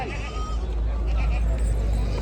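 A goat with three kids bleats amid the hubbub of a large goat, sheep and chicken market in Maharashtra, its call rising over steady crowd noise and nearby talk.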